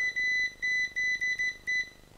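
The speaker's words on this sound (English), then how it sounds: "this is a really great feature that in diode mode it beeps, and it also beeps in the beep mode" A UNI-T UT61E+ digital multimeter beeps in diode mode: a series of clear, high electronic tones, several short and longer beeps in irregular succession, close and alone with no talk.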